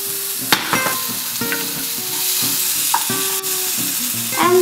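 Potatoes, onions and tomatoes fry in a pan with a steady, loud sizzle. Scraping stirs and clinks from a utensil recur throughout, and no one speaks.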